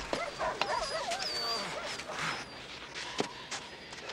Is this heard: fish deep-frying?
no